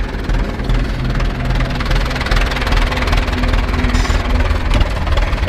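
An old Zetor 25 or Ursus C-360 tractor engine idles at low revs with a loud, steady, knocking diesel chug close by.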